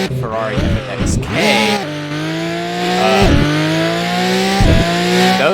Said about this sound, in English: those shift sounds sound like a very muffled shotgun, which I think is really, really cool.